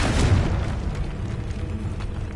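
A Confringo blasting spell detonates with a deep, rumbling boom that bursts loudly at the start, then settles into a lingering low roar.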